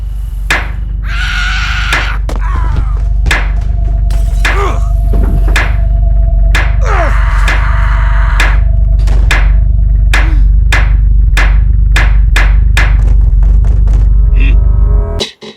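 Hammering nails in the video game Hello Neighbor, sharp loud wooden knocks struck repeatedly in an uneven rhythm, some in quick pairs, over a constant low game hum before an abrupt stop.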